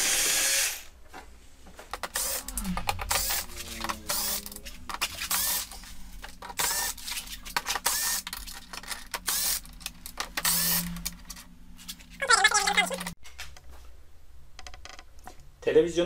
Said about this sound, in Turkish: Bu vidaların hepsini bir sökelim.